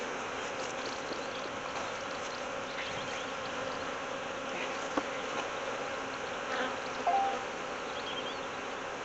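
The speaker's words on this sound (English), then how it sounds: "all the flying bees head back to her" Honeybees flying around a hive after a swarm, a steady close buzzing drone of many wings with faint individual bees passing nearby and a few soft knocks.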